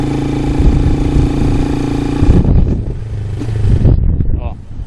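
A motorcycle engine runs loud and close, holding a steady throttle before the pitch drops and surges again as gears change, then fades toward idle.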